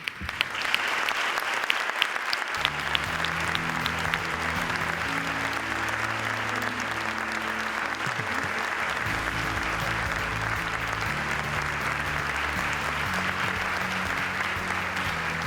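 Loud, sustained applause from a large crowd at a sports awards gala in Nules, Spain, steady and continuous for the whole stretch, with a faint hint of music underneath.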